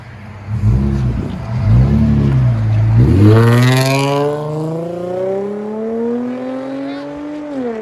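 A 2003 Infiniti FX35 with dual exhaust and a muffler delete revs loudly up close, the engine note climbing steadily through a long rising sweep before holding near the top.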